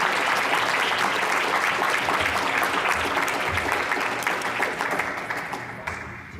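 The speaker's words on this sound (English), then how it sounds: "give a round of applause to our panelists here" A crowd claps steadily for several seconds, dense and even, before the applause thins out and fades toward the end.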